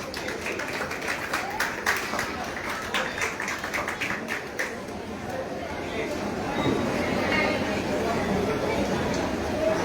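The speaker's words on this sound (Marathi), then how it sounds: "जोरदार टाळ्या वाजवा।" An audience claps loudly after a first-place winner is announced at a speech competition, with scattered claps early on and denser applause later, mixed with voices and chatter throughout.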